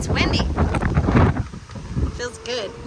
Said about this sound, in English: Woo-wee, and it's windy